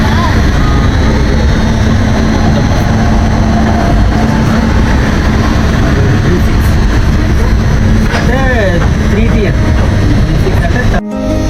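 A passenger train runs along the rails, a loud, steady rumble and rattle filling the whole stretch, with squealing tones rising near the end before it cuts off abruptly.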